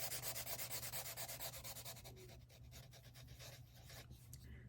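A chisel-tip marker rubs rapidly back and forth on paper while grapes are colored in, making a close, rhythmic scratchy swishing that starts steady and pulsing, then turns looser and more uneven.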